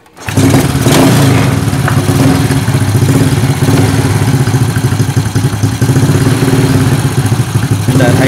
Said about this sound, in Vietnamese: Rồi tôi nổ máy lại.